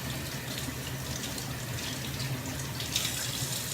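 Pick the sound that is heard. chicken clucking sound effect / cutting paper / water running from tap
water running from tap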